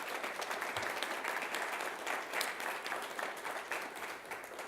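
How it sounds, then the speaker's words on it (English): Steady applause from a large crowd at a school district governing board meeting, dense and continuous clapping throughout, with no voices standing out. "let's give them a big round of applause"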